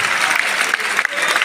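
A brief burst of audience applause at an Urdu-Hindi shayari poetry recital, a dense, steady patter of many hands clapping at close range, heard alone.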